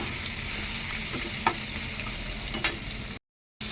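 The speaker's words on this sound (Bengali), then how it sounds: "এভাবে কিছুক্ষণ নাড়াচাড়া করে একটু কষিয়ে নেব।" Chunks of taro with turmeric sizzle and fry steadily in a pan. A spatula makes a couple of soft scraping knocks as it stirs, then the sound cuts to brief silence near the end.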